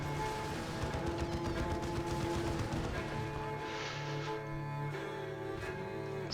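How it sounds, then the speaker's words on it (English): An artillery barrage in Warhammer 40k: Dawn of War 2, a dense continuous run of rapid explosions and gunfire crackling over a sustained game-sound bed, fairly loud throughout. "Oh, this is a barrage, right? Yes, it's going down on the Guardsmen."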